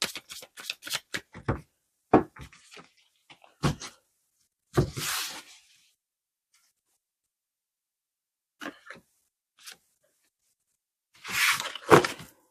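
Tarot cards shuffled and picked by hand in a quiet room, a series of short crisp riffles and slaps in bursts separated by silent pauses, close and clear with no talking.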